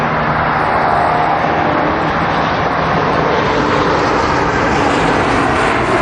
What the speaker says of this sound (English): Here comes another plane.